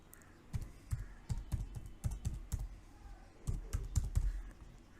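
Close, soft keystrokes on a computer keyboard as a domain name is typed, arriving in quick irregular bursts with a short pause midway, and no talking.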